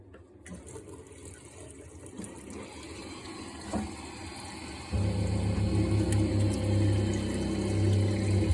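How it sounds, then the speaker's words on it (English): Hot water tap running on a Navien gas combi boiler system: steady hiss of flowing water, then a deeper low rumble and hum kicks in partway as the boiler fires, continuing loud and close. "So let's turn the hot tap on."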